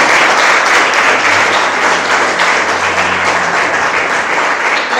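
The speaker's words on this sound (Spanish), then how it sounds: "Fuerte esas palmas que es para Cristo." A church congregation claps loudly and steadily, a thick sustained roar of many hands with faint voices murmuring underneath throughout.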